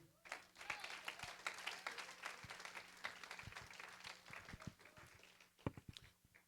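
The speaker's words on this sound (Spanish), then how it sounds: "Un fuerte aplauso para el Señor" A church congregation gives loud applause for the Lord during a Spanish-language sermon, heard as a faint, distant spread of clapping with a low hum underneath and a few sharper claps near the end.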